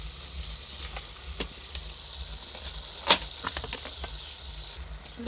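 Coriander-cumin powder sizzles in a hot pan of jackfruit curry, a steady close frying hiss with a few sharp crackles and spoon scrapes, no voices.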